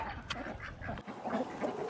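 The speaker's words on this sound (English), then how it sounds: "Snow goose. Well, the geese are coming back." Snow geese honk faintly in the distance, a loose scatter of nasal calls blending over open-air background noise.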